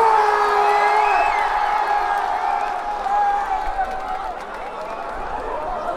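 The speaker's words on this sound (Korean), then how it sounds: "힘찬 박수와 함성으로 맞이해 주시기 바랍니다" An outdoor crowd at a Goseong peace concert cheers and applauds to welcome a K-pop group: a steady, dense wash of clapping, whoops and shouts that stays loud throughout and eases slightly toward the end.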